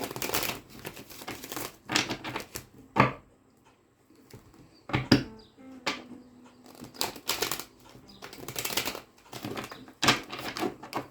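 Irregular bursts of crisp riffling and snapping as tarot cards are shuffled close up, with short quiet pauses between the shuffles.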